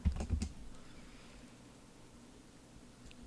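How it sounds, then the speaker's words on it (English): A password typed on a computer keyboard, a quick burst of a few faint close keystrokes at the start followed by quiet room hiss. "I'm going to type in my password."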